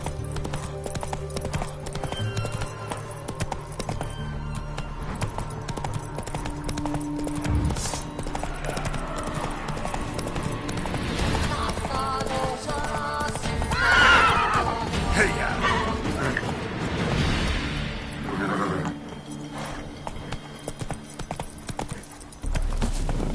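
Roach, the horse in The Witcher 3, gallops with rapid hoofbeats and neighs amid game music and effects, while a voice speaks over the action.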